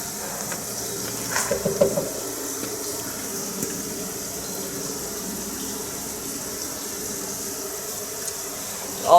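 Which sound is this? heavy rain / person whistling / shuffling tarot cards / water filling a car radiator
water filling a car radiator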